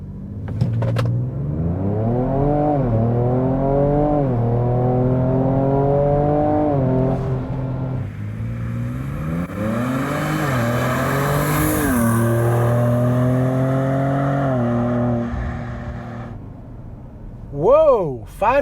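A tuned Ford Ranger Raptor in sport mode, four-high with traction control off, accelerates hard: the engine climbs through several rising gear pulls with brief shift dips, loud and close from inside the cab.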